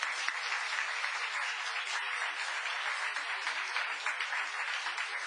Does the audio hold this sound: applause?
yes